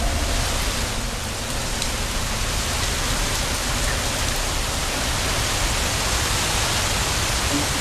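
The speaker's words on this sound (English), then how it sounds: "Now I start hearing the water droplets." Water droplets fall in an Unreal Engine game level, a dense, steady patter of many drops like rain on a surface, continuous and fairly loud throughout with no voices.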